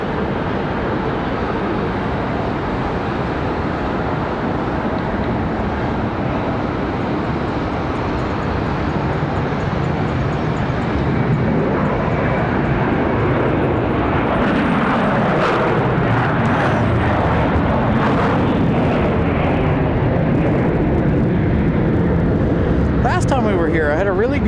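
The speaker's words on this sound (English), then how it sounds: "Another A321." An Airbus A321 jet departing Charlotte Douglas airport, heard as a sustained broadband engine roar that continues through the whole stretch, with a voice talking over it.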